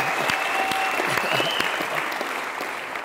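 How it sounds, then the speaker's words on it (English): Steady, dense applause from an audience honouring a graduating student, a continuous wash of clapping holding even and fairly loud throughout. "Give him a round of applause"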